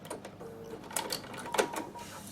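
A sewing machine stitches cotton fabric for a tissue box cover in short, irregular mechanical bursts with light clicks, fairly quiet and close.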